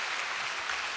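A church congregation claps together in a steady, even wash of applause, fairly soft and heard alone without voices.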